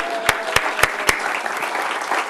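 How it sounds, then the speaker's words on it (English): Audience applause at a school gathering: a sustained crowd clap with four loud, regular close hand-claps punching through early, then the general clapping carries on evenly. "can we give Owen's mom another round of applause"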